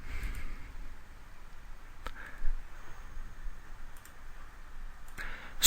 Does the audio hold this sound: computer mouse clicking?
yes